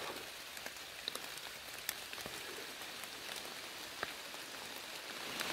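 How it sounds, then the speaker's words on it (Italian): Rain falls steadily through woodland, a soft continuous hiss of drops on leaves and ground with occasional sharper close drips, quiet and without voices. "Piove di nuovo, dai."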